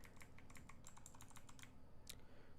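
Someone types on a computer keyboard while working on Rust code, producing quick, uneven clusters of light key clicks close by against a low background hum, with no talking.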